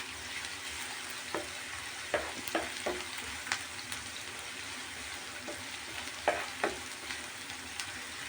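Sliced onions fry in a pan for beef picadillo, giving a steady close sizzle broken by scattered clicks and scrapes as they are stirred, with no talking.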